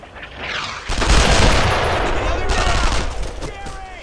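Gunfire in the WWII shooter Brothers in Arms: Road to Hill 30 erupts after a brief lull into a loud, close, sustained burst of rifle and machine-gun shots with booming echoes.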